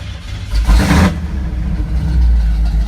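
Engine of a 1985 Chevrolet C10 pickup running, heard from inside the cab with its interior stripped out, a loud low rumble with a brief rev swelling up early, then a steady drone.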